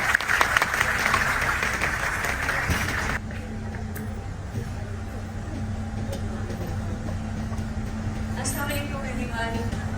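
Audience applause at a makeup masterclass, a dense burst of clapping for about three seconds that then drops away to room noise and speech.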